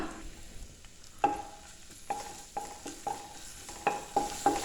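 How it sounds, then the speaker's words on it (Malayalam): Ginger-garlic paste hits hot oil in a pan for Kerala-style fried rice, giving a soft steady sizzle broken by sharp clinks and scrapes of a spoon stirring against the metal at close range. "എണ്ണ ചൂടായിട്ട് വരുമ്പോൾ ഇതിലേക്ക് 1 ടീസ്പൂൺ ഇഞ്ചി വെളുത്തുള്ളി പേസ്റ്റ് ചേർത്ത് കൊടുക്കാം."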